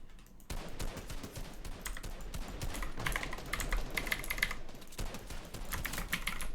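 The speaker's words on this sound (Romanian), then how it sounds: "Ascultați tastatura" Rapid computer keyboard typing clatters steadily and close throughout, dense irregular keystrokes mixed with game gunfire and explosion sounds from a shooter match in the background.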